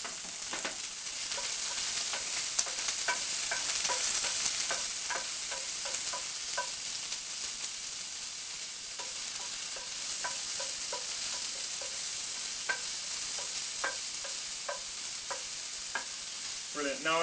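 Diced pancetta sizzles and crackles steadily in a hot pan for the whole stretch, a dense bed of frying hiss broken by sharp pops and stirring clicks, with no talking.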